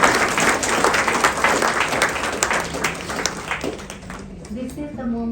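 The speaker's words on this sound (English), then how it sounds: "So can we have a huge round of applause before we can start." An awards ceremony audience gives a dense round of applause that fades out after about four seconds, leaving a few scattered claps and murmurs.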